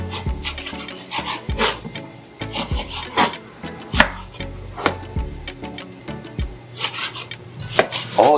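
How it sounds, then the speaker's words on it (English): A knife chops beef into big chunks on a cutting board, giving sharp, irregular thuds and knocks at close range, several in quick succession with short pauses. "It's very important that you cut your beef very well."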